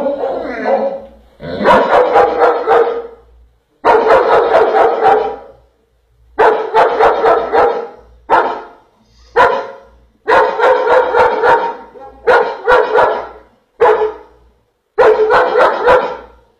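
A dog barks in repeated bursts of several harsh barks each, separated by short silences, loud and close, with some yelping and howl-like edges, showing fearful aggression.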